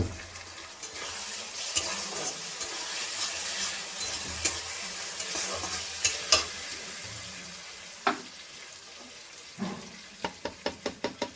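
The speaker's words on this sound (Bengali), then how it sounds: "মশলাটাকে আমার ঠিকঠাকভাবে কষাতে হবে" Spice masala for a country chicken curry is stir-fried in a pan, a steady close sizzle with repeated sharp scraping clinks of the spatula, quickening toward the end, with no talking.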